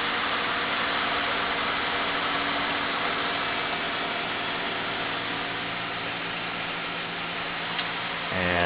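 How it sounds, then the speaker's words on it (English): Two small two-inch computer fans running on 12 volts cool an LED aquarium light, giving a steady, even whirring hum with a faint tonal drone that holds unchanged throughout. "two inch computer fans running on 12 volts."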